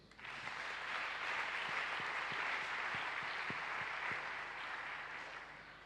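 A church congregation applauds Jesus during a worship service, steady continuous clapping throughout, moderately distant and even, with no speech over it.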